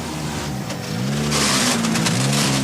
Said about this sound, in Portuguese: É para lá que agora caminha Mikko Hirvonen, primeiro carro na estrada, vai agora parar junto ao controle